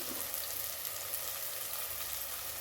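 Masala for fish curry fries in oil with added chilli powder, a soft continuous sizzle heard close, steady and unbroken, with no voices.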